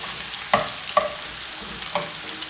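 Sliced garlic cloves, with ginger, sizzle in hot oil in a pan for a coconut-milk king fish curry, a steady soft hiss broken by a few sharp scrapes of stirring.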